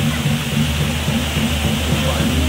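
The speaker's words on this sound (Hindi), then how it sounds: "ये पहाड़ों के पास से झरना बहता हुआ" A waterfall pours down the mountainside beside a Shiva temple, making a steady, loud rushing roar of water. A low hum runs beneath it, and a voice talks faintly in the background.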